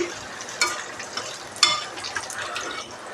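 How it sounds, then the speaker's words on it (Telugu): Meal maker (soya chunk) pakodi deep-fry in oil over a low flame, a bubbling sizzle punctuated by two distinct utensil clinks and lighter stirring taps. "లో ఫ్లేమ్లోనే ఫ్రై చేసుకోవాలి అప్పుడు మాడకుండా లోపల కూడా చక్కగా ఫ్రై అవుతాయి"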